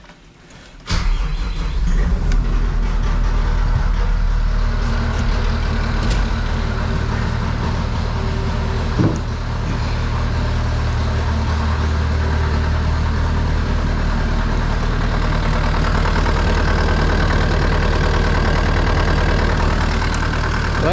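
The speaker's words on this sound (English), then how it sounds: "It starts and nothing's leaking." A Kubota engine in cold weather cranks briefly, then catches and settles into a loud, steady idle that runs on evenly, close by, with no talk over it.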